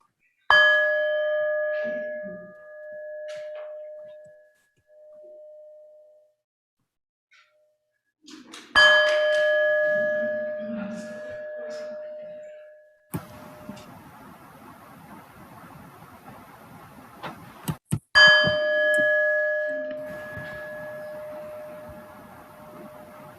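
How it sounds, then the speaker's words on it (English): During a congregation's service, a bell rings several times with long, clear ringing tones that fade slowly, separated by quiet pauses and a few soft knocks. "as we hear the sound of the bell"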